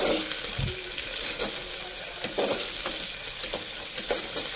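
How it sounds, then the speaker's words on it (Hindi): Fenugreek leaves and green chilies sizzle and fry in a mutton curry while being stirred, with soft repeated scraping and clinking of a spoon against the pan over a constant low hiss. "इसमें डालेंगे मेथी की भाजी और हरी मिर्ची, और इसको भी एक बार अच्छे से भून लेंगे"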